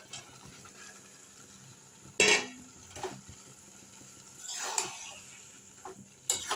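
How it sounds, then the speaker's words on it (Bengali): Egg tadka spices being stirred in a kadai with a spatula, a few sharp scraping clinks standing out over a faint background sizzle. "দিয়ে একটু এইভাবে নেড়ে নেব"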